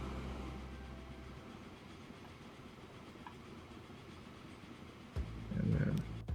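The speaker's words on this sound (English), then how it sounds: "here comes my coal train" A coal train rolls past in the Transport Fever 2 game, a steady low rumble of wagons with a faint clickety-clack, swelling louder toward the end as it draws nearer.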